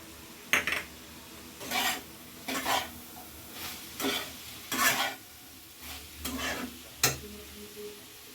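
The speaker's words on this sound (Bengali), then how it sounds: "এবারে দিচ্ছি কুচিয়ে রাখা বাঁধাকপি" Chopped cabbage tossed with capsicum and green chilli in a pan for chicken spring rolls, rhythmic scraping stir strokes about once a second over a low sizzle, close and clear, no talking.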